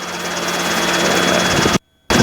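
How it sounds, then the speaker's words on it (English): A Robinson R22 helicopter in flight, its engine and rotor making a loud, steady thrumming drone heard from inside the cabin, cut by a brief silent dropout near the end before resuming. "The beauty of the helicopter."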